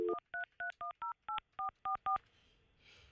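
Touch-tone dialing on a radio studio phone line: a low tone followed by nine evenly spaced, clean beeps of dual tones, close and clear, then a faint hiss of line noise as the call connects.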